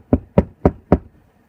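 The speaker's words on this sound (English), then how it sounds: "If you want to come in, knock at the door." Four firm knocks strike a door at an even, quick rhythm, close and loud, then silence with no voices.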